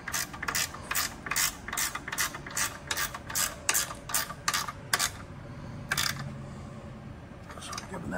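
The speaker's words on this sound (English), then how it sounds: "I'm gonna go in and I'm gonna tighten my hardware" A ratchet wrench tightens front fender hardware on a Harley Low Rider ST, producing rhythmic bursts of sharp clicking strokes close by, a pause, then a few more clicks, with a low voice faintly underneath.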